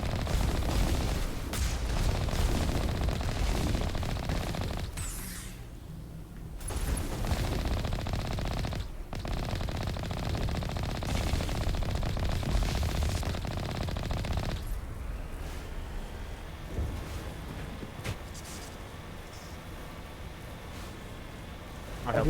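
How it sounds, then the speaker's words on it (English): Weapon fire from the Mako vehicle in Mass Effect Legendary Edition, a dense sustained rattle of rapid shots over game noise with a few brief gaps, steady and fairly loud throughout. "the Mako's weaponry does not sound very fun or intimidating"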